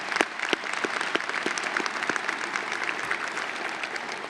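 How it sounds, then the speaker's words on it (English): Steady applause from the audience at a high school graduation ceremony, many hands clapping together in a large hall, a few sharp close claps standing out over the sustained moderate clatter. "Let's give them a round of applause, please."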